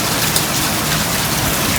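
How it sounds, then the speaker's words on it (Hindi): Heavy rain pours steadily onto a roof, a dense continuous hiss of drops with no pauses, loud and close throughout. "बस ये देखो बारिश कितनी आ रही है"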